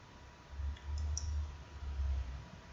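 A computer mouse gives a few quick, faint clicks close together over a low background hum.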